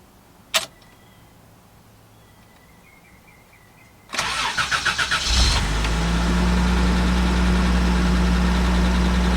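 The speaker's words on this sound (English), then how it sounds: "I'm gonna try for the second start and see how it idles." A 1989 Toyota Land Cruiser FJ62 with a desmogged 3FE engine and deleted EGR starts after a click and a few seconds of quiet. The starter cranks in a brief pulsing whir, then the engine catches and settles into a loud, steady idle.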